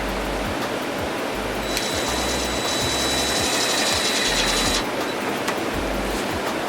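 Self-tapping screws being driven to fasten a wide body panel onto a Dodge Charger, heard as a power driver's rhythmic low pulsing and a sustained whine over a dense, noisy workshop background.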